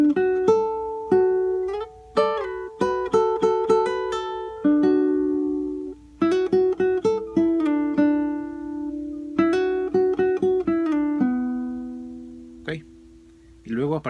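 A guitar plays a slow melodic phrase from a Peruvian waltz, with plucked single notes and short runs that ring out, close and clear, and a brief pause near the middle.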